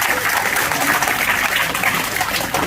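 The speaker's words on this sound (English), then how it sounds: "Round of applause for our Vice President" Dense, steady applause fills an auditorium at a union conference AGM, a continuous wash of clapping at close, even volume.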